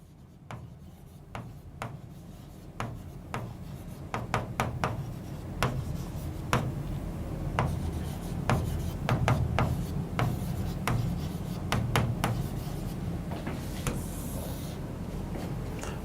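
A pen writing out organic chemistry notes on paper, quick scratchy strokes coming in irregular bursts, close and fairly loud with no talking.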